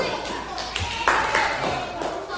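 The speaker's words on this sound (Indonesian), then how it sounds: "Tepuk tangan, tepuk tangan" A class claps for a student group after a maths answer is confirmed, a brief scattered burst of hand claps under a teacher's voice, moderately close, with a couple of sharper single claps standing out.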